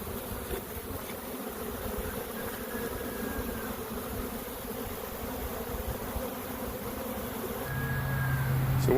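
A honeybee swarm hangs outdoors during a shake-down onto a nuc, giving off a dense, even buzzing drone that stays steady throughout and grows slightly louder near the end.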